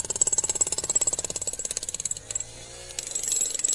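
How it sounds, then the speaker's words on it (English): A hydraulic breaker on an excavator pounds concrete in a fast, loud, steady hammering rhythm close by, then stops and gives way to a hydraulic whine and engine rumble. "That's why I'm using this breaker to smash"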